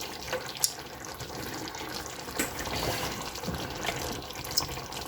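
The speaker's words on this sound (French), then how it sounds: "Je vais ajouter un peu de bouillon juste pour la sauce." Broth poured into a pot of catfish with green chilies makes a steady, close liquid stream and splash that runs continuously, with a few small clinks.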